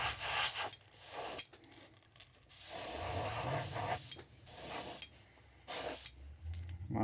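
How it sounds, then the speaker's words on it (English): Spray paint hissing in heavy, thick bursts onto the belly of a crankbait fishing lure, several loud close blasts separated by short pauses. "Spray that belly real good."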